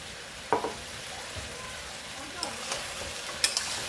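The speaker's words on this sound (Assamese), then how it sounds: "আৰু জলকীয়াখিনি এড কৰাৰ পিছত মই খুন্তিৰে কচুখিনি ওলটাই দিম।" Taro pieces frying in a pan with raw and ripe green chillies, turned with a metal spatula: a soft, low sizzle with a few sharp scraping clicks as the pieces are flipped.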